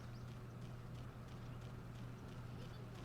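Horse hooves clip-clop steadily in the video game Go Vacation, a continuous, evenly paced patter of several horses over a constant low hum, loud and close throughout with no talk.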